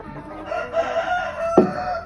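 Hens clucking inside a farm chicken coop where eggs sit in the nests, a drawn-out, fairly loud vocal call followed by a sharp burst, heard close with no talking.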